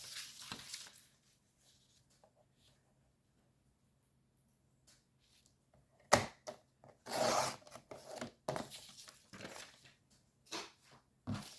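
Paper being cut with scissors while making a handmade April Fools' fish sketch card: a few faint snips early, then a quiet pause, followed by a cluster of louder, close crisp cutting and rustling bursts toward the end.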